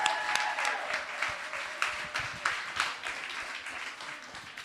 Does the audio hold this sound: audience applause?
yes